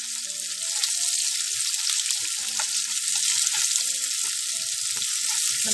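Onion and chili stir-fried in a hot pan with salt, a steady loud sizzle and frying hiss throughout with occasional stirring clatter, no voices.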